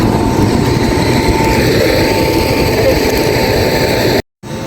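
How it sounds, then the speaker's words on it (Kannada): A train arrives at a station near Hubli, a loud continuous rolling rumble and hum close by that holds steady, then cuts out abruptly near the end. "ಟ್ರೈನ್ ಬಂತು"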